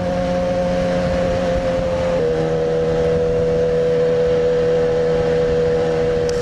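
A Yamaha FZ6R motorcycle engine droning steadily while riding, a constant loud hum with a slight pitch shift partway through, mixed with wind rush.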